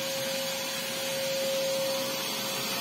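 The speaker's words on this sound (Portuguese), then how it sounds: "meu pai tá aspirando ali, ó. A cabeceira da cama dele." A vacuum cleaner running steadily while cleaning a bed headboard, a constant loud whooshing roar with a steady tonal whine and no pauses or voices.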